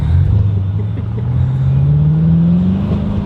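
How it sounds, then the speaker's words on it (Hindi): A car engine drones steadily and close, its pitch slowly rising as it revs while driving and drifting across stones, with no talk over it. "तो मेरी गाड़ी हमेशा ड्रिफ्ट करती है जब अगर पत्थरों के ऊपर से जाए तो।"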